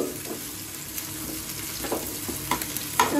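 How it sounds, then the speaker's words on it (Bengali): Onion, ginger, garlic and cashews sizzle in a pan as spice paste for paneer makhani biryani, with a continuous hiss broken by a few sharper stirring scrapes and knocks near the end. "ভাজা হয়ে গেছে, ওভেনটা আমি বন্ধ করে দিচ্ছি আর মশলাটা তুলে নিচ্ছি, পেঁয়াজ, আদা, রসুন আর কাজুটা"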